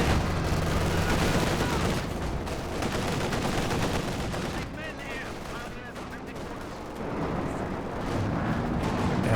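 Gunfire in Company of Heroes 2, including a veteran StuG assault gun, crackles in dense bursts mixed with heavy booms during a 2v2 battle on Novoye, loud and continuous, with a commentator speaking over it.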